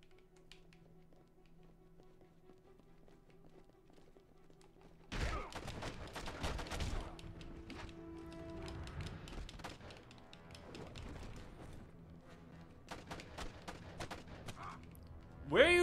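Gunfire in the video game Enter the Matrix, on hard difficulty: quiet at first, then sudden rapid bursts of sharp shots and impacts, with dense volleys later, close and loud.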